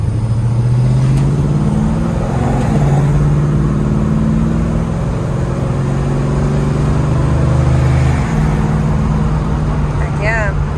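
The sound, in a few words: 1970 Chevrolet Chevelle driving and shifting its 3-speed transmission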